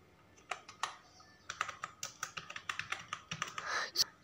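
A password is typed on a computer keyboard: a couple of isolated clicks, a short pause, then a quick irregular run of crisp keystrokes close by, ending in a sharper final tap, with no talking.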